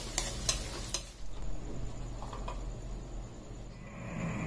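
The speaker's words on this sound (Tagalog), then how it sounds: "So, igigisa lang natin siya hanggang sa maging crispy." Chopped garlic being sautéed in a pan until crispy, starting with a few sharp clinks of a utensil, then a steady close sizzle that keeps going without talk.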